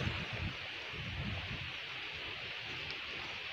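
Strong storm wind from Cyclone Remal roaring through a village bamboo grove, a continuous rushing and rustling wash of noise with gusty low buffeting against the microphone, no voices.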